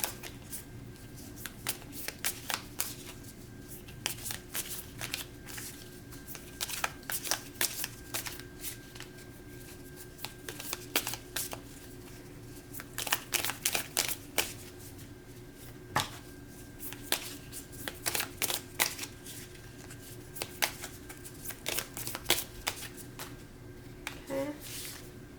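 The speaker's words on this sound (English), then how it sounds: "So I'm going to shuffle and meditate" Cards shuffled repeatedly in crisp riffling bursts with short pauses between, close up and fairly quiet, a steady hum underneath.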